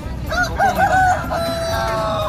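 Chickens cluck and crow loudly close by at a poultry market in Simeulue, Indonesia, during the Meugang tradition before Ramadan, with a busy background murmur filling the space.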